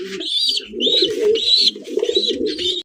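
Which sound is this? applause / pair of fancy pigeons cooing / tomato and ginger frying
pair of fancy pigeons cooing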